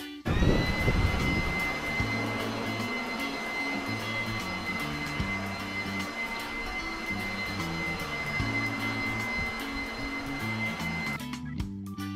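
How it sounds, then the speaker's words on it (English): Belt sander working over a wooden deck, a steady loud motor whine and grinding hiss that runs nearly unbroken, with sanding strokes pulsing underneath and no voices. "actually get the belt sander out and give it a good sand"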